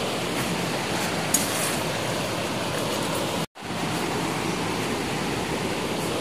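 Water rushing over a rocky forest stream in the jungle highlands, a steady full broadband roar close by, continuous apart from one brief cut partway through, with no voices.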